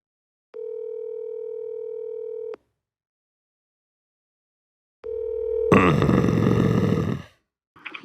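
A telephone ringback tone sounds for an unanswered call, one steady two-second beep, silence, then a second beep that gets cut off as a loud grunting, burping noise takes over.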